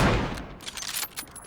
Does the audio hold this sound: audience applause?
no